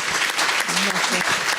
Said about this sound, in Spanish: como cierre le vamos a dar un gran aplauso